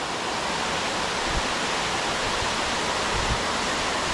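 Steady broadband rush of a river current near a bass-fishing boat with a trolling motor, the flow fairly gentle, continuous and fairly loud with occasional low thumps, no voices.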